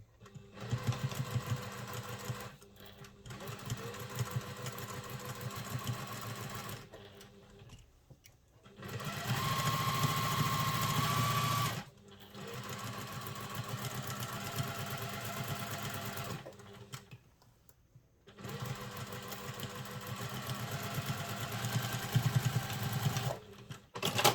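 A sewing machine stitches a travel satchel in four long runs of steady mechanical whirring, separated by short pauses, fairly quiet and close.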